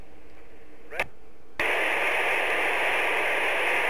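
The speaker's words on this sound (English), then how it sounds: "The enemy now only receives white noise." An encrypted Racal Jaguar V frequency-hopping military radio gives a brief blip and then a sudden, loud, steady wash of white-noise hiss that continues unbroken to the end.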